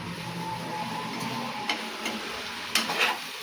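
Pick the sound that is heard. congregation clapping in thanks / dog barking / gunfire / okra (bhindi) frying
okra (bhindi) frying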